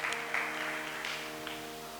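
A crowd at a religious katha gathering claps for the women in the audience, a brief burst of dense applause over a steady sustained musical drone.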